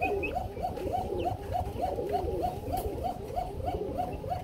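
A pair of Pashiraj pigeons gives a rapid, evenly repeated series of soft, close coos against low background noise.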